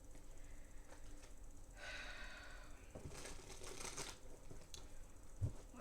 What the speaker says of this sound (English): I'm going to pull some cards on this